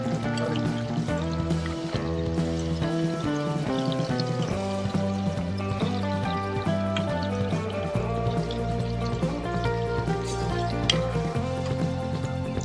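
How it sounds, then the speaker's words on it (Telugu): Paneer cubes fry slowly in an oiled pan, a low steady sizzle running underneath loud, continuous background music. "పన్నీర్ని కొద్దిగా నిదానంగా ఇలా ఫ్రై చేసుకోవాలి"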